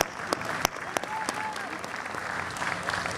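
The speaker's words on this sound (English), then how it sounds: "Give it another round of applause for Panchabhutam, Indian classical dance and symphony." Audience applause after a Panchabhutam Indian classical dance and symphony performance at a large cultural festival, dense continuous clapping from a big crowd with a few sharper nearby claps standing out.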